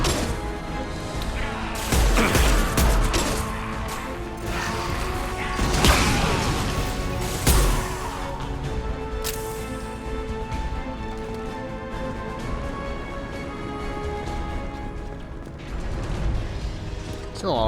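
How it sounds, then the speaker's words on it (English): Impact gun firing in Mass Effect 2, with three heavy booming blasts spaced a few seconds apart over a dense, loud game soundtrack and mechanical clatter. "Firing an impact gun."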